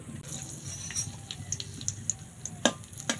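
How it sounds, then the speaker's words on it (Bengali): Black cumin seeds and two slit green chillies frying in hot mustard oil, a soft steady sizzle with small crackles and a couple of sharper pops near the end, heard close and alone. "ভেজে নেবো কালো জিরে লঙ্কা খুব ভালো করে"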